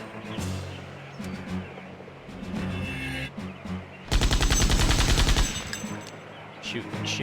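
Automatic gunfire in a video game, a sustained burst of rapid loud shots in the middle, with fainter scattered shots and game noise before and after it.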